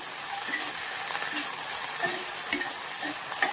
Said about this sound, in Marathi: तेलात परतून घेतल्यामुळे आपली गवारीची शेण सॉफ्ट होते आणि लवकर शिजली जाते